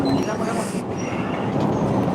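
Malaysian passenger train running on narrow meter-gauge track, giving a steady close rumble with rattling rolling noise throughout, while people talk nearby.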